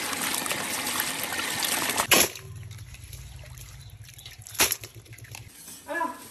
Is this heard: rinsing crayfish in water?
yes